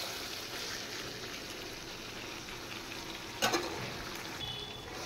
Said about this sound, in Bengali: এবার চিকেনে গরম জল দেব।